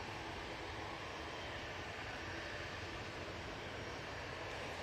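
A worn-looking TUI airliner at Manchester Airport gives off a steady, broadband jet roar that holds at an even level throughout, distant and with no voices over it.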